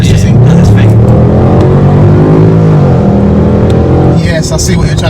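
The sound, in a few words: Range Rover Sport SVR engine revving, exhaust open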